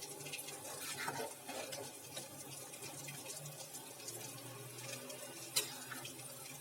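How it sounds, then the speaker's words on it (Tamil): Mutton biryani stirred in a pressure cooker, the spoon scraping and clinking against the metal pot in irregular strokes, with one sharp knock near the end. "அப்படியே குக்கர் மூடியில் நல்லா ஒரு தடவை கிளறி விட்டுக்கலாம்."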